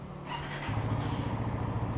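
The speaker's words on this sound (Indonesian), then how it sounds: "Jadi untuk menyalakan motor ini cukup dengan satu kali touch aja." A motorcycle engine with a keyless easy-start system fires up with one touch and settles into a steady, close putter. There is no talking.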